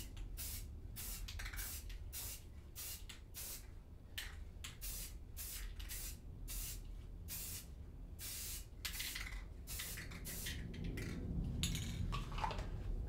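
A spray paint can coats the outsides of Corsair AF120/AF140/SP120/SP140 fan rings in a quick series of about a dozen short, evenly spaced hissing bursts, close and steady with faint clinks near the end.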